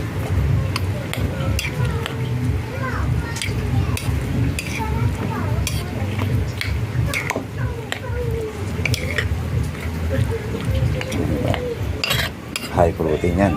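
A protein dish seasoned with pepper is stirred in a pan, with repeated metal scrapes and clinks of a utensil against cookware and a faint sizzle beneath, a voice talking over it throughout.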